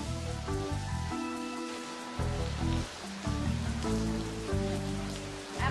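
Steady rain falls on a surface by a roadside, a dense continuous patter that stays loud and unbroken throughout, with no voices over it.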